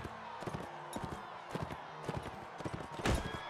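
Horse hooves clop in irregular, rapid beats during mounted combat in the medieval game Mount & Blade Warband, moderately loud over a dense battle-noise bed with a sharper impact near the end.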